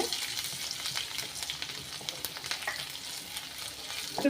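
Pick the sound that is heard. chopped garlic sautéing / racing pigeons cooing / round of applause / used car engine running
chopped garlic sautéing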